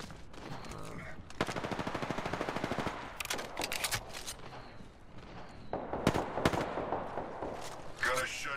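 Gunfire from enemies holding high ground in the battle royale game Apex Legends, dense bursts of rapid automatic shots in several volleys, loud and close, with a voice talking over parts of it.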